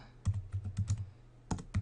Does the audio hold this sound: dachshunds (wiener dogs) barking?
no